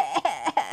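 A young child gives three short, breathy coughs in quick succession, close and fairly loud, with brief gaps between them.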